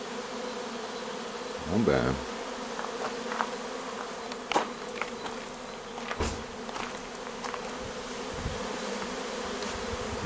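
A honeybee swarm flies around a Dadant hive, giving a steady buzzing drone with a few louder passes of single bees close by. One voice speaks briefly.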